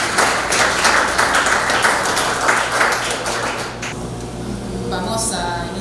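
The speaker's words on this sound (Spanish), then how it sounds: "Así que recibámosla con un fuerte aplauso." Audience at a research presentation event clapping to welcome a presenter, a dense burst of applause that tapers off after a few seconds into quieter room sound.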